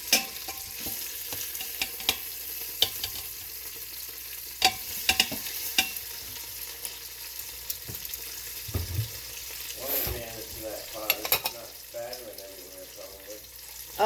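Short ribs browning in an Instant Pot, a steady sizzle with repeated scrapes and clatters of stirring, and a voice talking near the end.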